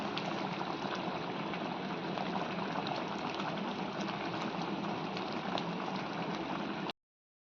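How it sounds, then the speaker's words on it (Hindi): A pot of bhatoni bubbles on a traditional wood-fired mountain stove, giving a steady, dense hiss of boiling liquid that runs close and continuous before it stops abruptly. "और भटोनी भी उबलने बैठ गया है।"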